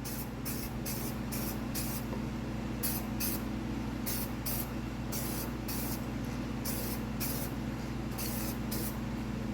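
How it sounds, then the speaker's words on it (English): A spray paint can coating an RC Lexan body, delivered as quick bursts of hissing spray in an uneven rhythm over a constant low hum, close and clear. "I like to test spray to make sure that there's nothing clogged."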